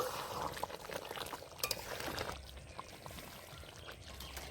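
Ghee goes into a hot pan of chicken pieces for a jackfruit curry and is stirred in, giving a steady close sizzle with scraping and stirring textures throughout.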